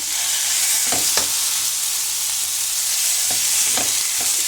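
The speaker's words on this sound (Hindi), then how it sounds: "ये ज़रा मैं थोड़ा ये फ्राई कर लूँ।" Boneless chicken pieces fry in a pan with a loud, constant hiss and a few scraping stirs, close by and without any voices.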